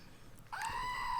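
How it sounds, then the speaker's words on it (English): Screaming goat toy sound effect: a short rustle, then a loud, sustained, piercing goat-like scream that holds steady to the end. "The beautiful screaming goat, if you would like."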